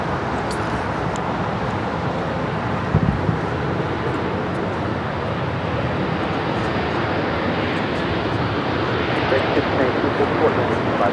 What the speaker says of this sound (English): This Cathay Pacific and the One World livery now rolling down at 25 right.